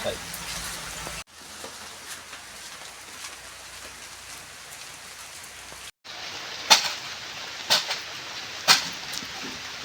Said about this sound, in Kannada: ಇವತ್ತು ಫುಲ್ ಮೋಡ ಮಳೆ ಬರ್ತಾ ಉಂಟಲ್ಲ